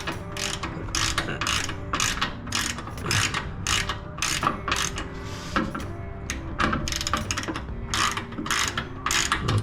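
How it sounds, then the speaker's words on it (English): A ratchet wrench loosens a control arm bolt on a VW Super Beetle, a continuous fast clicking of the pawl in rapid back-and-forth strokes, close and loud, with no talk. "remove this bolt here. I'm just gonna loosen it for now like this."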